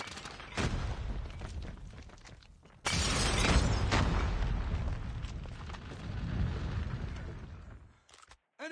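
Frag grenade blast in a shooter video game: a loud, sustained explosive roar that swells at the start and bursts again with a heavier boom midway before fading, with no talk.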